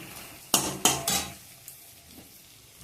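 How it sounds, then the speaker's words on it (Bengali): Masala stirred and fried in a pan, with a few loud scraping strokes of a spoon against the metal and a faint sizzle between them, close by. "মশলাটা দেওয়ার পরেও একটু নাড়াচাড়া করে ভাজা ভাজা করছি"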